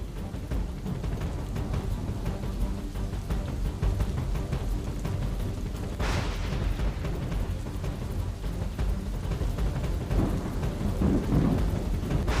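Torrential rain pours over Ahmedabad in a dense, steady roar, and thunder rumbles through it, with a brief louder crack near the middle and another heavy swell near the end.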